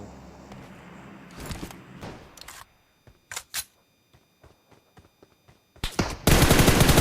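Gunfire in the mobile shooter PUBG Mobile, with short bursts and single sharp shots separated by gaps, then a loud sustained burst of rapid automatic fire at the end.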